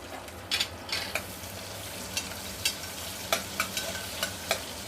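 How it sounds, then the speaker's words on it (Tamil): Chopped large onions sauté in a pan with oil, a steady soft sizzle running throughout, broken by brief scraping stirs of a spoon at irregular intervals, heard close with no talk. "வெங்காயம் நல்லா வதங்கணும்."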